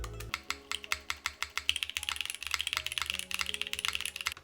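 Someone types on a prototype mechanical keyboard with its screws removed, producing a close, steady patter of clacky keystrokes that speeds into a rapid flurry partway through.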